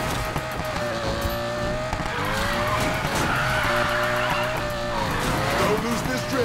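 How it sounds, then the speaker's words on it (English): A car drifting in a racing video game, its engine roaring steadily under a long, wavering tire squeal that runs the whole way through, close and loud, with talk over it. "Don't lose this drift, Mac."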